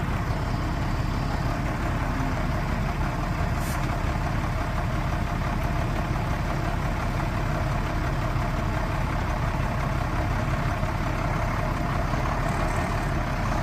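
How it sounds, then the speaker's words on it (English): A 1994 International S2500 truck's engine running steadily at idle, a loud, close, continuous diesel rumble with no talking. "once she's running, there's no smoke coming out of the smokestack. Engine sounds fantastic."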